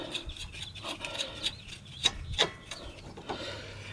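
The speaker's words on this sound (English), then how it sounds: "And we'll go ahead and snug our nut on for now." Ratchet clicking in short bursts as a nut is snugged onto a sway bar end link on a 2008 Dodge Avenger; fairly quiet, close-up, with pauses between strokes and no talk.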